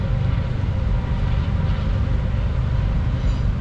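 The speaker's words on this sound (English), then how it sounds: "there goes a freight train actually making its way across that" A heavy, steady low rumble of a freight train crossing a bridge at a distance, continuous throughout with no voices.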